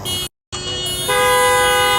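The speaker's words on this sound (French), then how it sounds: "Bah ils sont contents, ils klaxonnent" Car horns honking in street traffic: a short toot, a brief gap, then a longer steady honk that swells louder and holds, with traffic rumble beneath.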